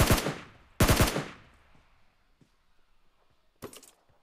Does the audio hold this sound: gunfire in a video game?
yes